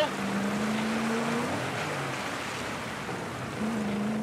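A rally car drives through water in the Dakar 18 game. A steady wash of water and rumbling engine noise holds throughout, with a tonal engine whine rising and falling.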